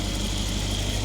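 A rebuilt, previously wrecked Mercedes E63 AMG-S engine idles, a loud, steady, close low rumble with no voices.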